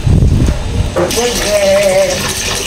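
Water pours and splashes over a dog during a bath, a gushing flow that starts after a short burst of handling noise, with a faint voice underneath.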